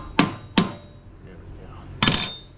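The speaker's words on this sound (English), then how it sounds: "Use a wrench like a hammer every time." Three sharp metallic blows from a wrench used as a hammer on a lawn mower, two close together then one more after a pause.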